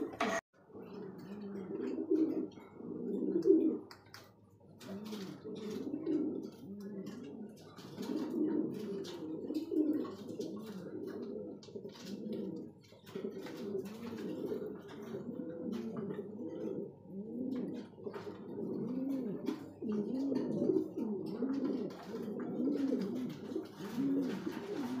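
Breeding pigeons coo continuously in soft, rolling, throaty phrases that overlap one another, close by but fairly quiet, for the whole stretch.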